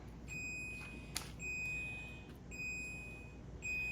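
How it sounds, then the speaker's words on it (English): Kitchen timer set for proofing bread beeping in a quiet room, steady high electronic tones repeating in a regular pattern of roughly one-second beeps, with a small clink partway through. "And there's the timer from the proofing because I took it out a minute early."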